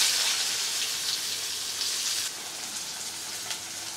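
Mustard seeds sizzle and crackle in hot oil during tempering, a dense, steady frying hiss heard close up that drops slightly in level partway through, with no talking.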